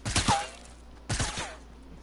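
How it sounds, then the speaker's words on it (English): Two quick bursts of gunfire from the video game Fortnite, about a second apart. Each burst has several rapid reports followed by a short ringing tail, and they sound moderately close. "Someone's shooting at you."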